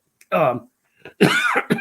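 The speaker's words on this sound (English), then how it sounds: "I apologize for coughing." Two short, harsh coughs a moment apart, close and loud, with a brief throat-clearing quality.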